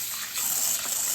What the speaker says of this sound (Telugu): ఇలా ఒక గిన్నెలో పెసలు తీసుకొని కడుగుతానండి.